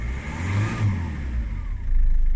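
A Ford Fiesta Mk6 Zetec S with a 1.6 TDCi diesel, a mid-pitched engine drone that swells and revs up as it pulls away, loud and close with no voices.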